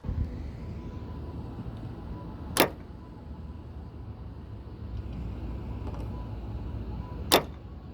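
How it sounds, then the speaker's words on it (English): A quiet car interior hum in a Nissan GT-R 50th Anniversary Edition broken by two sharp mechanical clunks a few seconds apart, the door handle snapping back into place. "when I let go of this door handle, listen to the sound it makes."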